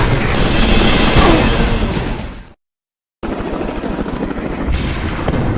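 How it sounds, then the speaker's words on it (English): Military helicopters under attack in The Incredible Hulk video game: loud rotor roar and heavy rumble with bursts of booms and gunfire, cut off by a brief silence before the din resumes. "Get those choppers out of here."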